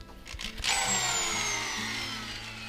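A power drill with a bit boring a hole through a dried gourd being made into a birdhouse, a short high whine that starts abruptly and slowly falls in pitch, close and alone.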